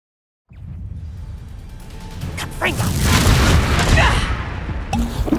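Spell explosions in Hogwarts Legacy combat, with a sudden loud burst followed by a sustained rumbling blast and crackling debris. It builds in intensity and stays dense to the end, with game voices mixed in.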